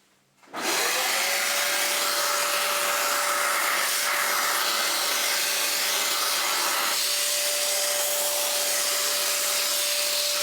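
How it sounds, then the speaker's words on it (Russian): A vacuum cleaner fitted with a thin nozzle switches on and runs steadily with a loud whooshing roar and a constant whine while pulling dust out of a computer, with no voices. "Я на пылесос надел вот такую насадку потоньше, чтобы можно было доставать из труднодоступных мест"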